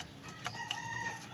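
A fighting cock gives short, soft clucks, a few brief faint calls close by against a quiet background.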